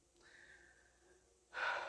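A slow, deep breath drawn in softly through the nose, held as a faint steady hiss, then released in a louder, breathy exhale during a relaxation exercise.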